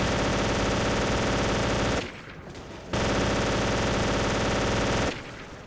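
Automatic gunfire in a video game bursts out loud and close in two long, continuous volleys, separated by a short break and trailing off at the end.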